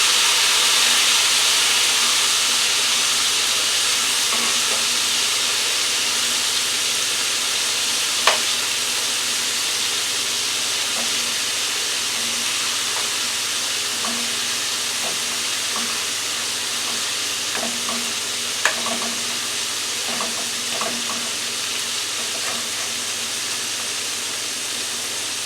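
Chicken livers frying in hot oil behind a mesh splatter guard, a steady loud hissing sizzle with a couple of sharp isolated pops and scattered small crackles.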